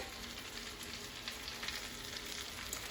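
Chicken sizzles and fries steadily in a pan, a continuous close crackle with small pops throughout and no talk.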